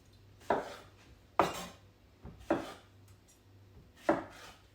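A knife quartering tomatoes thuds onto a cutting board in five distinct, unevenly spaced chops, close and crisp against a quiet kitchen background.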